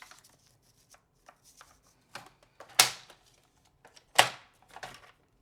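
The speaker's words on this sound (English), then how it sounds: "I'm just gonna cut some off the top" A few sharp scissor snips cutting strips off the top of a craft stencil set, with quiet rustling and handling of the packaging between the cuts.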